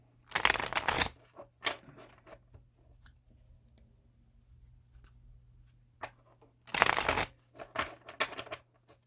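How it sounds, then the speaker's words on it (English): Close, crisp riffling of a tarot card deck in two main bursts separated by quiet handling and light taps. "I'm just going to give it a few shuffles on camera."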